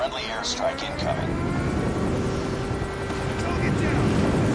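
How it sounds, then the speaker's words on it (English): In Call of Duty multiplayer, an airstrike aircraft flies in with a broad roaring rumble that swells steadily, with game effects in the background. "Friendly airstrike incoming."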